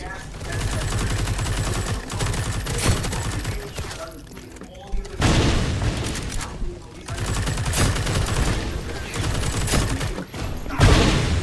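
Rapid bursts of UMP and Striker gunfire in a Roblox horror game, loud and repeated in clustered volleys with short gaps, a voice talking over parts of it.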